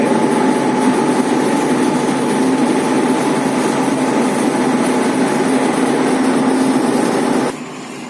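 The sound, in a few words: sanding laminate furniture with a disc sanding machine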